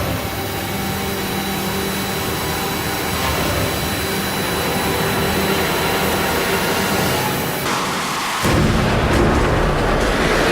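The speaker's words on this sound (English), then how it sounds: "you'd drag race an Aston Martin against a man on jet-powered roller skates" A jet-powered roller skater and an Aston Martin V8 Vantage drag race, with a loud, continuous jet-like roar and engine rumble that shifts abruptly near the end into a different, harsher blast.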